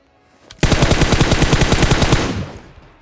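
Automatic gunfire in the mobile game PUBG Mobile: a sharp onset into a rapid, evenly spaced burst of loud shots lasting about two seconds, then a short fading tail.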